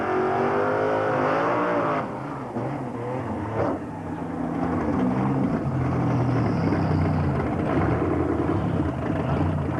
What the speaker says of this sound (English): Here running through there at 11, the fastest street legal car in South Africa at the present moment.